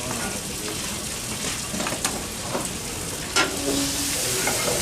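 Steak sizzles loudly in a hot frying pan at an outdoor food and wine festival cooking demonstration, a constant close hiss with a few clinks and scrapes as it is flipped, and voices faintly in the background.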